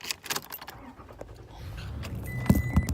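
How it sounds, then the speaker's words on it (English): Someone gets into a car, with keys jangling close by, a door and seat rustling, and a couple of sharp clunks near the end, with no talking. "I'm getting in the car."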